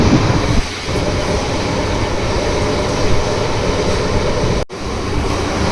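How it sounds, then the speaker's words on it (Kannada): A MEMU electric train on the Tumkur to KSR Bangalore route runs fast at around 85 to 90 km/h, giving a loud, steady roar and rumble heard from inside the coach, with a brief dropout near the end. "ಮೆಮೊ ಟ್ರೈನ್ 85 to 90 ರೇಂಜಲ್ಲೆಲ್ಲ ಹೋಗ್ತಾ ಇದೆ"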